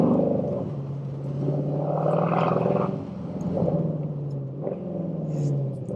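A straight-piped Mercedes C63 AMG Performance Pack gives a loud, deep V8 exhaust rumble that swells and settles in steady waves, close by with no voices.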